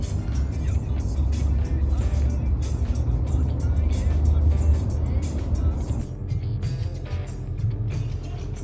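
A car drives through heavy city traffic on the way to Brussels, Belgium, with a steady engine and road rumble throughout and people talking over it inside the car.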